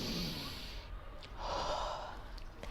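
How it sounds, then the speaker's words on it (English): A person breathing in deeply and audibly, a long airy inhale followed by a breathy release, close and fairly loud with no talk. "And to take a deep breath is"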